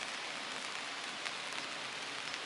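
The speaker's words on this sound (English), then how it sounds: "The rain started." Steady rain falling on a riverbank fishing spot, a dense, even hiss of drops on surfaces and an umbrella with no let-up and no voices.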